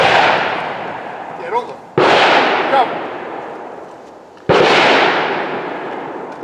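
Handgun shots ring out during outdoor tactical training, two sharp loud cracks a few seconds apart, each trailing into a long decaying echo, with brief voices speaking between them.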